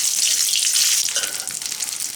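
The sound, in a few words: mustard seeds spluttering in hot mustard oil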